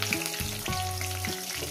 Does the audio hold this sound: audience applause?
no